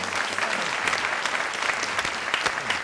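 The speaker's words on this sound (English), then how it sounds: "give Mady a big round of applause." A short burst of audience applause, many hands clapping at an even, moderate level with no break.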